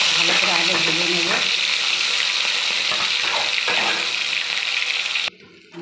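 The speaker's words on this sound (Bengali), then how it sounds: "এবার আমি চিংড়ি মাছটাকে ভালো করে আগে ভেজে নেব।" Prawns coated in salt and turmeric fry in hot oil in a wok, giving a loud continuous sizzle with some stirring. The sizzle cuts off abruptly near the end.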